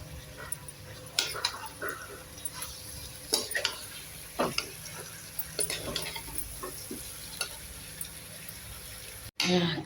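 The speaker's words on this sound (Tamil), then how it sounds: "நல்லா கிளறி விட்டோம்னா நல்லா வதக்கிடலாம்" Vegetables for lentil sambar being stirred and sautéed in a pan, with a steady low sizzle under scattered scraping and clinking strokes of the spoon, fairly close, with no talking.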